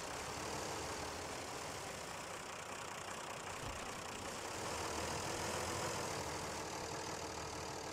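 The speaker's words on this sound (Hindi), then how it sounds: "ट्रैक्टर अपनी पूरी पावर लगा रहा है" A tractor engine strains at full power pulling a stuck truck and trailer out of mud: a continuous, broad, steady roar of moderate loudness that holds throughout, with no speech over it.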